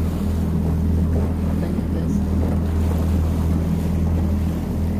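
Small rented boat riding choppy water near Narvik, Norway, with a constant low engine drone, slapping waves and heavy wind buffeting the microphone, loud and unbroken throughout.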